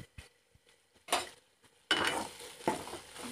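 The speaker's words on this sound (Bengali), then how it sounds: "দিয়ে ভালো করে আস্তে আস্তে নাড়তে থাকবো।" Shrimp frying in a pan with salt, chili powder and green chilies, stirred slowly: scraping stir strokes and a brief clink at first, then a loud, steady sizzle with renewed stirring bursts, no talk.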